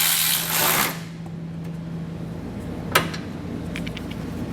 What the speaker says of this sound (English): we're going to come back with the 17mm for these bottom ones and just snug them up